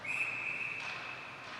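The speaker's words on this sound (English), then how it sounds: "so it's going to be a whistle" Referee's whistle at a youth AAA ice hockey division final, blown for high sticking: a steady, sustained high tone held for well over a second over faint rink ambience.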